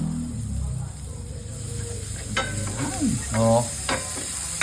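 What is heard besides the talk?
garlic sautéing in butter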